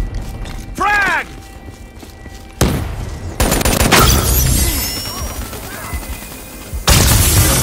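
Call of Duty: Black Ops III multiplayer team deathmatch: a frag grenade explosion bursts out loudly amid rattling gunfire and further heavy blasts, with brief quieter gaps and a mechanical whine between the bangs.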